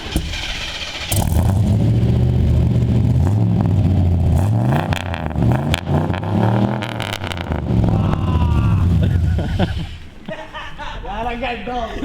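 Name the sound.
Lamborghini V8 engine revving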